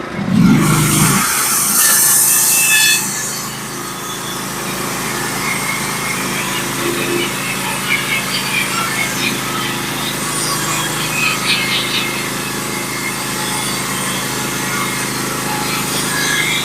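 A sawmill cutting white oak into 4x4 lumber, a loud steady mechanical whine and drone that runs the whole time, with a brief harsher burst at the start and faint rattles through the cut.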